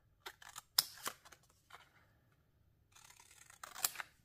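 Scissors snipping through small paper ephemera pouches, a quick run of crisp close cuts followed by a pause and then another burst of snips.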